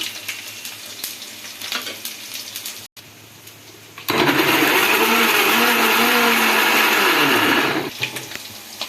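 A kitchen blender grinds three tomatoes into paste, starting abruptly as a loud, steady whir that runs about four seconds before winding down, following a quieter stretch of sautéing onions sizzling.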